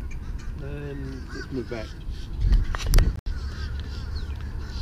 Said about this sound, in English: the bloody birds in the background